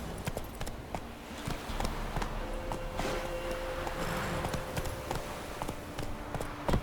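Roach, the horse in The Witcher 3, gallops in a steady rapid clip-clop of hooves amid game ambience and music, moderately close throughout.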